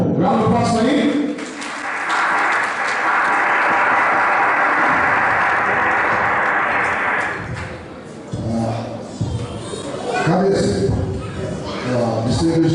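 A crowd at an award ceremony applauds for a presenter as he is introduced. A steady, loud wash of clapping holds for several seconds, then thins out into scattered claps and room noise.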